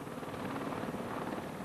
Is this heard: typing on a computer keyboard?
no